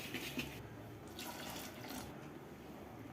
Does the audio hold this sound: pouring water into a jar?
yes